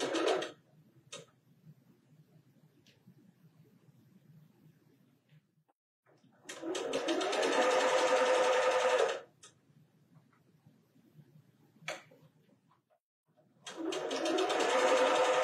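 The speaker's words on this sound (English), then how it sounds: "I'm going to go ahead and sew the next two" A sewing machine stitches quilt blocks placed good side to good side in two loud, steady whirring bursts of a few seconds each, separated by quiet pauses with faint handling clicks.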